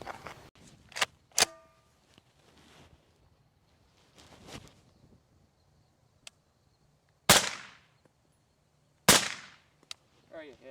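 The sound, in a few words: gunshot at a bulletproof test panel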